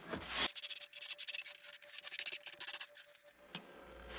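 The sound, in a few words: scrubbing portable air conditioner coils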